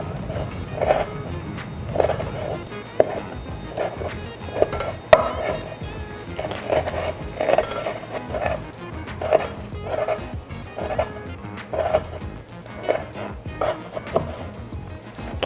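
A knife chops blanched blowfish skin steadily on a cutting board, about two crisp strokes per second, close up and continuing throughout with no talking.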